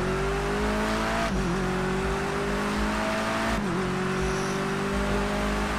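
Touring cars racing in Project Cars 2 on a wet Bull Ring circuit, a loud steady engine drone with two gear-shift dips and rising revs, cars running close together with no talk.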